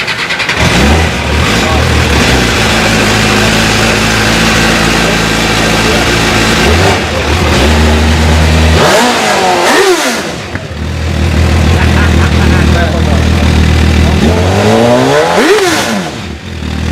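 An MV Agusta F4 1000 motorcycle idles loudly close by, then is revved in two sharp blips that climb and fall, the engine note rough and throaty between them.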